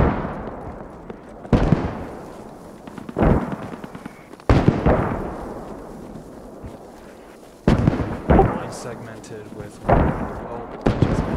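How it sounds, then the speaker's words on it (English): Incoming mortar rounds land close by a rail station in a World War II video game, each arriving as a heavy, sharp blast that booms and trails off, about six impacts spaced irregularly a couple of seconds apart. "We just had mortars coming in close to us on the rail station."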